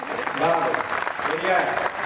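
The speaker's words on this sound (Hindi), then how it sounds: "ताली बजा सकते हैं" An audience at a Marwadi Yuvak Mandal poetry gathering claps after a religious story ends, a brief burst of crowd applause of moderate loudness, mixed with a voice or two.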